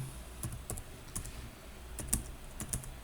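Random patient data such as weight and height is being typed on a computer keyboard into medical reporting software, heard as irregular clusters of crisp key clicks at close range with no talking.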